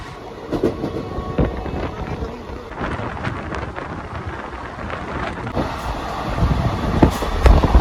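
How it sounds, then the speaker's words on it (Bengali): A train moves near Kantadi station in Purulia, producing a low rumbling roll with wind buffeting the microphone. Scattered clanks are heard as it goes, and the sound swells louder toward the end. "তো ট্রেন এখন এসে দাঁড়ালো কান্টাডি স্টেশন"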